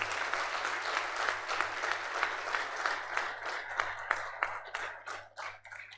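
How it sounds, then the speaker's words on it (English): An audience at a 30-year graduation reunion claps steadily for the class president, a dense patter of many hands that holds then thins toward the end. "request that our class give a resounding applause to our class president"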